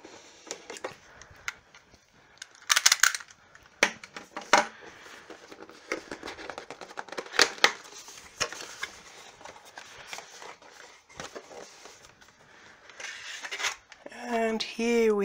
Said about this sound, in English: I need a knife to cut the package open